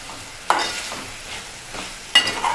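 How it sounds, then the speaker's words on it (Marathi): Hyacinth beans, potato and brinjal fry in hot spiced oil, a steady sizzle broken by two sharp scrapes of a spoon stirring the pan, close and loud with no voices. "तेलात असे फ्राय केले का पटकन शिजतात"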